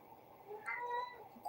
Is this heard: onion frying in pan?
no